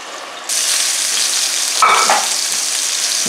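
Fries bubble in hot oil beside a burger being cooked, a loud, steady sizzle that jumps up suddenly at the start, with a brief scrape or clatter midway and no voices.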